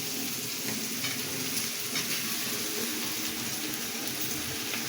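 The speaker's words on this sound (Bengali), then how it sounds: "এখন আমরা কড়াইতে দিয়ে দেবো।" Samosa spice filling fries in a kadai with a steady, close sizzle and crackle that holds evenly throughout, with no voices over it.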